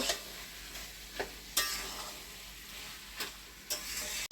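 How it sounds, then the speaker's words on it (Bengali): Jackfruit curry being stirred in a pan after garam masala paste goes in, a soft steady sizzle with a few sharp scrapes and taps of the spoon, close and fairly quiet. "গরম গরম মশলা বাটা দিয়ে নেড়ে চেড়ে নামিয়ে নেব"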